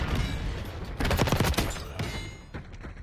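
Gunfire in Call of Duty Black Ops 6: quiet bursts of rapid, overlapping shots mixed with game effects, clustered in short volleys over about three seconds.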